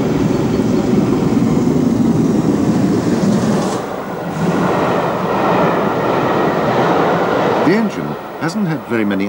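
GWR steam locomotive City of Truro running on a British main line at a restricted pace, a loud, continuous rumbling roar that holds steady and then thins and wavers toward the end.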